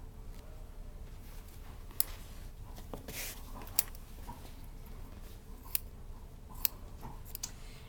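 Scissors snip athletic tape for ankle taping, several short sharp clicks spaced a second or two apart over a low steady background hiss, close and fairly faint.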